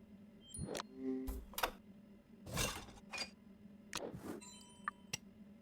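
Glasses clinking in a dishwasher in a video game: a few sparse glassy clinks and taps over a low steady hum, with quiet gaps between them.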